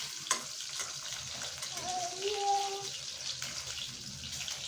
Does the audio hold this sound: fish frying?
yes